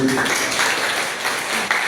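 A congregation applauds during a Sunday church service, with a dense, continuous wash of clapping heard for a couple of seconds and voices mixed in beneath it.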